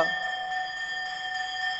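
One bright metallic temple bell strike rings out during a Jain prayer ritual and sustains with a long, even shimmering tone, no voices.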